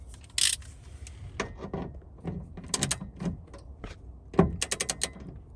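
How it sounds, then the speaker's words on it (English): A 13 mm socket wrench torques bolts on an S197 Mustang rear seat delete and X-brace kit, giving scattered ratcheting clicks and metallic clinks at close range in a quiet space. "All right, we're going to torque these down to 17 foot-pounds."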